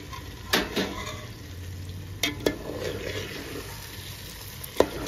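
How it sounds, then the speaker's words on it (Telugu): Eggs frying in a pan for egg dum biryani, a soft continuous sizzle with several sharp clinks and scrapes of a spoon stirring against the pan. "చూడండి, గుడ్లు వేసుకుంటున్నాను."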